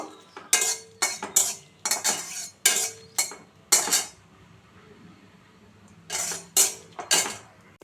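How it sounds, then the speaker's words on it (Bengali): Dried red chillies are stirred in a pan with a metal utensil, giving sharp, close scraping clatters in quick bursts with short pauses, then a final cluster of strokes. "এবার শুকনো লঙ্কা দিয়ে দিয়েছি, এটাও হালকা নেড়ে চেড়ে নেব।"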